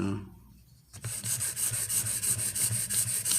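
A Benchmade 13940 knife blade is drawn across a Venev OCB 240-grit stone in quick, regular back-and-forth strokes, a close, gritty rasping that repeats about a dozen times after a brief quiet pause.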